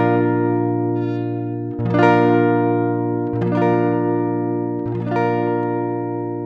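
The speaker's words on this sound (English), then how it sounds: "I'm going to strum from the 6th string to the 1st string." A guitar chord strummed from the low sixth string down to the high first string, rung out three times in a slow, even pattern, each strum swelling and sustaining into the next, heard alone and fairly loud.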